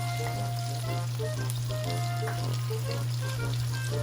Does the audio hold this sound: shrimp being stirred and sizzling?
yes